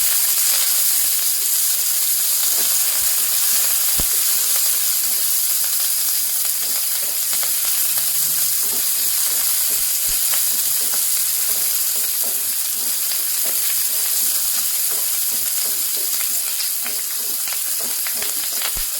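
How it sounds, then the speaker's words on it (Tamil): Onion and curry leaves frying in a pan for a spinach kadayal, a loud continuous hissing sizzle with light crackles and occasional stirring taps throughout. "சேர்த்துட்டு நல்லா ஃப்ரை பண்ணணும்"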